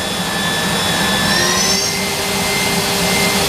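A Kiwa KH 4500 motor in great condition, a 2021 unit, spins at high RPM. It gives a loud, steady, high-pitched whine with a slight upward shift in pitch partway through, and no one speaks.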